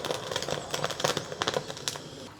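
Glowing charcoal on a grill, with close, irregular crackles and small pops over a soft background hiss.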